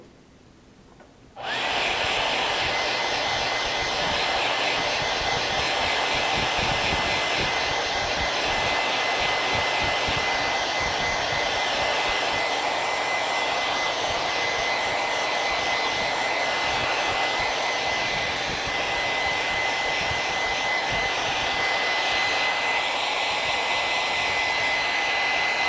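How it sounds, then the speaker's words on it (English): A hair dryer runs steadily at close range for about 25 seconds, blowing on freshly painted FolkArt matte acrylic yellow paint. It starts abruptly after a moment of near-silence, then keeps a continuous loud whooshing roar with no talking. "I am going to blow dry this just a little bit because I don't want my yellow to bleed"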